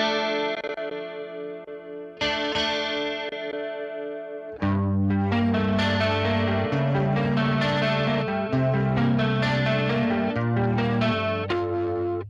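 An electric guitar plays distorted chords through a Jens Bogren cabinet impulse response, first two ringing strums that decay, then a loud, sustained riff with a bright, gritty tone.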